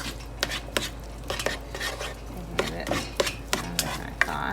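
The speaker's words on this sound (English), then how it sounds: "I'm going to go ahead and put my pre-cooked, already made rice in here" Pre-cooked rice goes into a pan with scrambled egg, producing a series of spatula scrapes and clinks against the pan at a moderate, irregular pace, with faint sizzling underneath.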